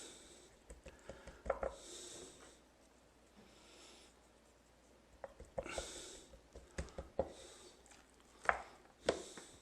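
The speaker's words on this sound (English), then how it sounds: "So I'm just going to sprinkle that mixture over my ribs." Dry SPOG spice rub (salt, pepper, onion, garlic) sprinkled over raw ribs, making soft scattered patters and taps in brief clusters, fairly quiet with pauses between.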